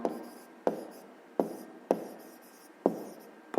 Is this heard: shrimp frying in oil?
no